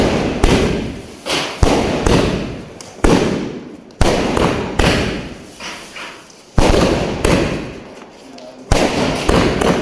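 Firecrackers burst in a rapid, irregular series of loud, sharp bangs close by, each followed by a brief rattling decay, while people talk in the background.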